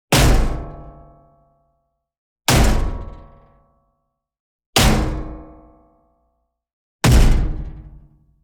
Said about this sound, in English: this is how it sounds after the processing